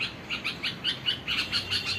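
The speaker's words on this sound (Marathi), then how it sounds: "हे बघा बुलबुल तिच्याकडे कशी वाहते" A bulbul calling near its nest, a rapid series of bright repeated chirps close by, roughly evenly spaced over a couple of seconds with no talking.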